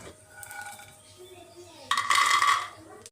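Freshly fried peanuts are tipped from a pan into a bowl in a home kitchen, making a bright rattling clatter of nuts and metal that bursts out loudly near the end after quieter handling and a faint voice.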